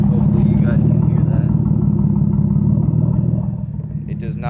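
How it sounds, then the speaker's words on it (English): A car engine idles roughly, a loud low rumble with an uneven, slightly lumpy pulse, close to the microphone, easing a little toward the end. "the car is kind of idling like shit"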